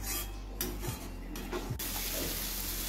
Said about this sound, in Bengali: এখন এই মশলার সাথে মুগ ডালটাকে কিছু সময় নিয়ে ভালো করে কষিয়ে নেব